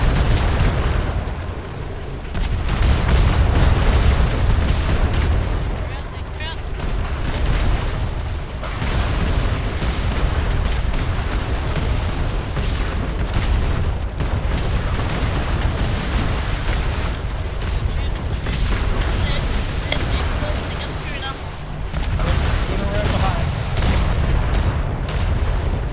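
Ship cannons fire in a Royal Navy roleplay game aboard a sailing vessel: repeated heavy booms and rolling blasts, dense and loud, come in bursts and overlapping volleys across a long stretch with no voices.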